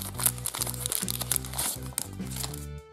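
A plastic surprise packet crinkles and crackles steadily as it is torn open by hand, close and continuous, with music playing underneath.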